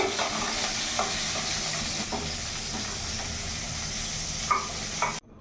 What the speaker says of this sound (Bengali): এখানে আমার ফুলকপিটা ভাজা হয়ে গেছে